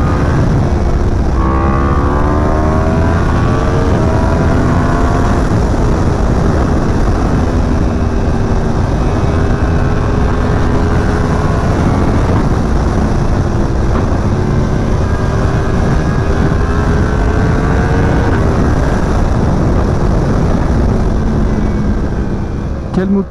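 Yamaha R1M sport motorcycle with a prepared engine, ridden on an autumn road: a loud, continuous engine roar with wind rush, revs rising and falling through gear changes across the ride, with speech in parts.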